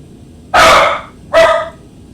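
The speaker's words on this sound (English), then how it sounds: "Oh, sorry, my dog just barked." A dog barks twice, close and loud, with a short pause between the two sharp barks over a quiet background.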